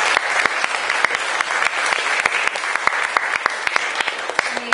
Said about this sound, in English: Let's have a round of applause for our presenters.